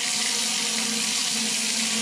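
Water runs steadily from a Grohe Euphoria SmartControl 26510000 shower system, a continuous close broadband rush and hiss that holds evenly for the whole stretch without pauses.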